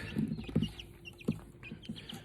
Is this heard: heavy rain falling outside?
no